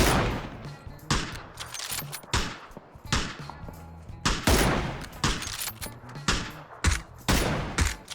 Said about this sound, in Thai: เสียงยิงจากรอบทิศ